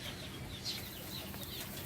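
Soft, faint fluttering of a bird's wings near an outdoor dirty kitchen at home, where a pair of birds keep a nest; a brief flurry stands out against a low, steady background, with no one talking.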